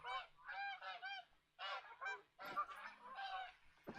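Several geese honk repeatedly in clear bursts as they fly in to land during a hunt, the calls fairly distant and separated by short quiet gaps.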